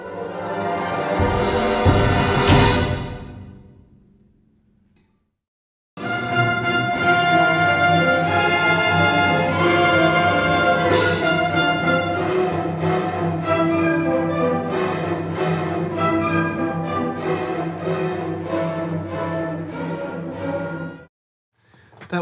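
An orchestra captured through an AKG C414B-TL microphone, a loud sustained full ensemble passage with a swelling opening, a brief pause, then a long rich section ending abruptly.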